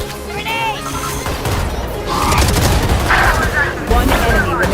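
A grenade blast in Valorant during a competitive match, a loud burst of gunfire and explosive booms that swells midway and stays dense to the end, with players calling out over it.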